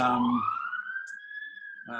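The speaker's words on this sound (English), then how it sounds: "Let's wait for this siren to pass." A siren rises and holds a long high wail as it passes nearby outdoors, briefly covering a voice that drops out and then returns at the end.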